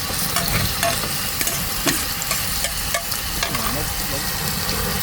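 Octopus sizzling and frying in a pan, a steady broadband crackle with occasional stirring clatter, loud and continuous throughout.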